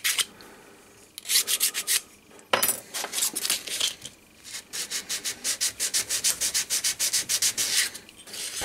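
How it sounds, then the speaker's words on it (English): A hand file worked across a thin brass maker's plate, after trimming with tin snips, giving a long run of rhythmic, close rasping strokes, with a short pause and a sharp clink before the steady filing resumes. "So I might get in with a file."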